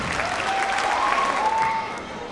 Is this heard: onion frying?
no